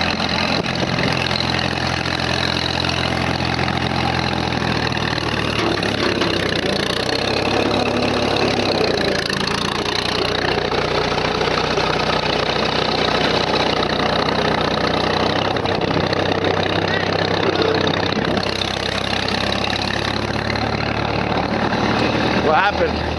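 A Minneapolis Moline tractor engine runs steadily in gear for the whole stretch, a loud continuous low rumble with a mechanical knock, as people talk over it.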